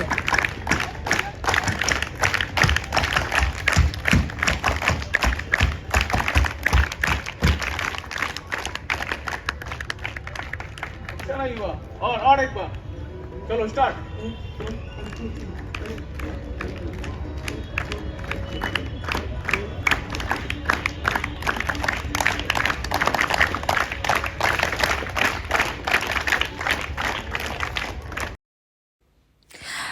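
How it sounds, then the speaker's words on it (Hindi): Children at a slum theatre workshop clap together in rapid, steady rhythmic bursts, loud and close, with a short pause for shouted instructions midway and voices calling out over the clapping. "तो ये बच्चे ताली बजाना सीख रहे थे"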